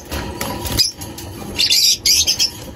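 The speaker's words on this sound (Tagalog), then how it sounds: "Ito na yung mga inakay nila, mga kaibon." African lovebird chicks give short, high chirps and cheeps in a couple of quick clusters, heard close up over faint rustling and handling noise.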